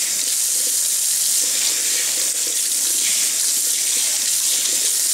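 Tap water runs steadily into a kitchen sink during rinsing: a loud, close, continuous hiss and splash with no break and no voices.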